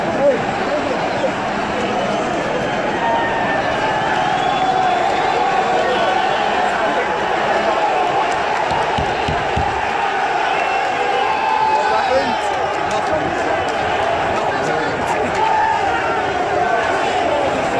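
A large crowd of Chelsea football fans protests near Stamford Bridge's Britannia Gate, a dense, continuous roar of voices, chanting and shouting that stays loud throughout, with people talking nearby.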